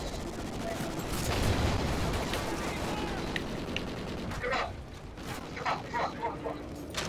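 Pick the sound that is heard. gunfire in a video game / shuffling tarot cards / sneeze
gunfire in a video game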